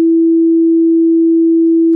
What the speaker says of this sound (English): we had a simple sine wave.